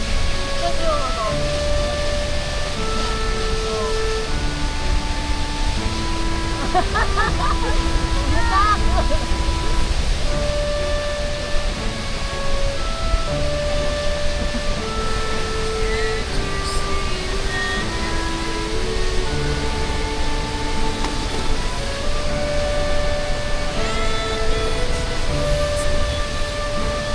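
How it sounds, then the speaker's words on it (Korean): Powerful roar of a large Yosemite waterfall, a steady dense wash of falling water that holds constant throughout with no break, while a person speaks over it at times. "제 인생에서 본 폭포 중에 제일 커요."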